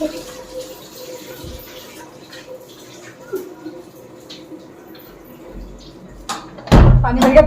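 A household tap is left running until the water overflows. It is quiet at first with faint drips and small knocks, then a loud, close rush of pouring water suddenly fills the last second.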